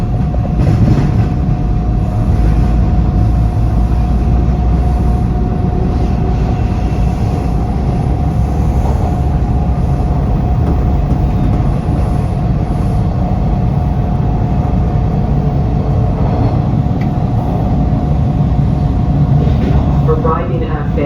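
A Toronto TTC green line subway train runs between stations with a loud, constant rumble and rattle of the cars, a steady tone held through the whole stretch and faint voices underneath.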